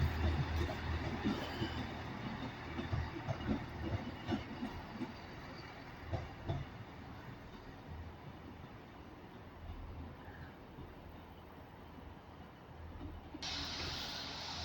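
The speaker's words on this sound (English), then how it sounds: "So departing Carlisle now, so Northern service to Leeds with one of their 158s, 158757" Northern class 158 diesel unit 158757 pulling out of Carlisle station on a service to Leeds, a steady low rumble of engine and wheels with hiss, continuous and moderately distant throughout.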